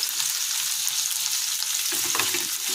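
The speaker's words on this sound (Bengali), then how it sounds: "আর এটা একটু ভাজা ভাজা হয়ে যায়" Steady, loud sizzling of capsicum, tomato and quartered onion frying in a pan, with a brief stir scraping near the end.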